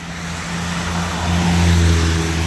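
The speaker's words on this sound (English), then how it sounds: "Ah, that's a loud Scion." A loud Scion car passing on a downtown street, a steady engine rumble that swells as it nears, close and fairly loud, with no talk.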